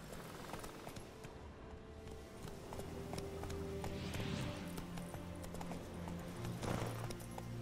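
Geralt's horse Roach trots in The Witcher 3: Wild Hunt, with a steady, faint clip-clop of hooves and soft game ambience throughout.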